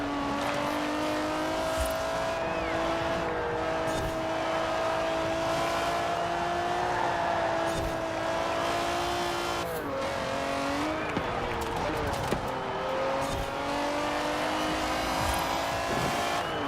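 A BMW 850CSI races in a Forza Horizon 4 A-class road race, its engine droning steadily and loudly throughout, with gear-shift dips and brief tire squeals partway through.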